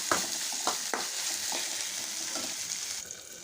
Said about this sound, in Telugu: టమాటా కూడా మెత్తగా ఫ్రై అవ్వాలి